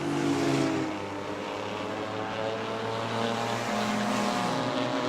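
Race cars circle the track during the Armadillo Enduro 100 at New Smyrna, a steady distant drone of engines with slight rises and falls, no talk.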